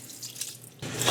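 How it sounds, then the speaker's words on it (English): Water poured into a cooking pot on a stove while making homemade dog food with turkey, a short splashing rush that swells after a quiet, faintly dripping start. "Then we're gonna add the rest of the water."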